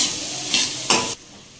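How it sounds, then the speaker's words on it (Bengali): Chopped onions stirred in a pan over a low flame while they fry, with a steady soft sizzle broken by two short scraping bursts before the sound drops away. "লো ফ্লেমে আস্তে আস্তে করে পেঁয়াজ কুচিটা নাড়তে হবে"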